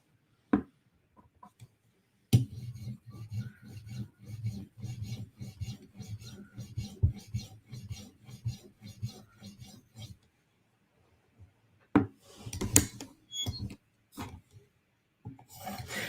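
A knife being sharpened on a fine-grit whetstone toward a polished edge: a series of soft, rhythmic scraping strokes in bursts, each pass a short rasp, with pauses between sets and a few sharper clicks.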